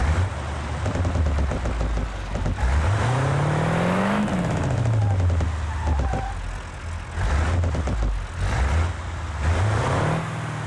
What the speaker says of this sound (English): Same engine brake sound though, it seems like.